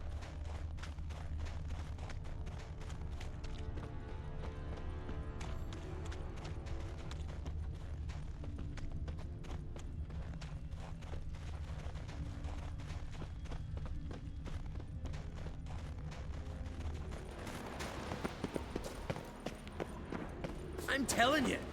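Steady clip-clop of horse hooves from the video game Witcher 3 runs throughout at a walking pace, close and rhythmic, with voices talking over it.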